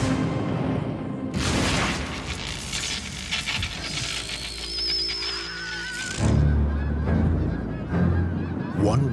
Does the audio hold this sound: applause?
no